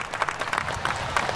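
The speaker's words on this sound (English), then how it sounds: "Vice President Pence received plenty of applause here" A military graduation crowd applauds Vice President Pence, with clapping coming in quick, fairly regular bursts of broadband claps at a moderate, even volume.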